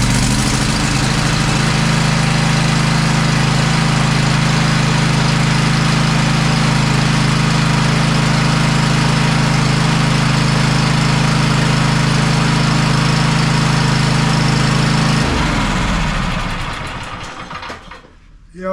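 A Cub Cadet XT1 riding mower with a fuel leak runs at full throttle, a loud steady engine drone close by that holds for a long stretch, then winds down and sputters to a stop.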